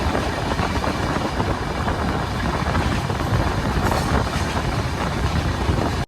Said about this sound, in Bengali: আর এদিকে আমাদের মান্ডবী এক্সপ্রেস ছুটে চলেছে আপন গতিতে